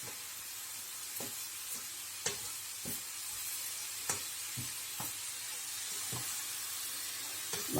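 Carrot halwa cooks in ghee in a pan, with a steady soft sizzle and occasional scraping strokes of the stirring spoon, close and without talk.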